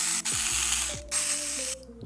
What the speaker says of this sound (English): attach these side plates using the flathead bolts included to both sides of this adjustable mount